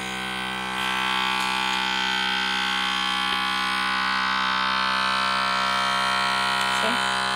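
A vacuum sealer draws air out of a bag of millet flour, a loud, steady motorized drone with a buzzing harmonic whine that holds without a break and has no speech over it.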